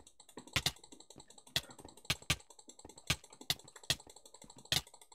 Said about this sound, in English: You can probably hear my mouse clicks.